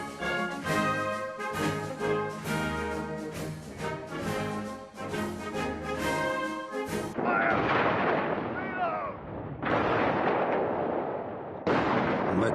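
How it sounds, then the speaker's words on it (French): Artillery bombardment from the 1916 Battle of the Somme, with heavy dense blasts and crackling gunfire rolling in continuous succession, loud and close, later turning into a harsher, noisier barrage. "En matière de préparation d'artillerie, on n'avait encore rien vu. On y passa 8 jours d'affilée."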